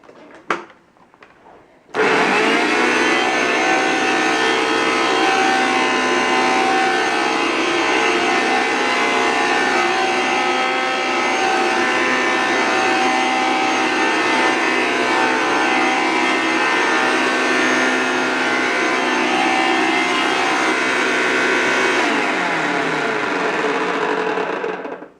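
A Fantom Capture Machine vacuum cleaner runs steadily with its brush on carpet, a loud continuous motor whine starting after a brief quiet moment and holding for over twenty seconds before cutting off.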